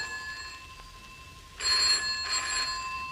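A telephone ringing in an empty house in a radio drama: a faint tone is followed by two loud, shrill electric bell rings, with a brief pause between them.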